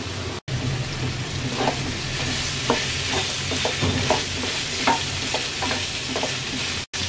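Vegetables with frozen peas fry in oil for a Bangladeshi-style vegetable pulao, a continuous crackling sizzle with scattered spatters and soft stirring knocks.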